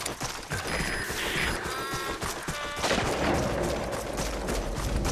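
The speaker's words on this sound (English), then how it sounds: "Begin cover fire." Sustained gunfire rattles through the clip as cover fire in Metal Gear Solid V: The Phantom Pain, dense and continuous, growing louder after the halfway point over steady background noise.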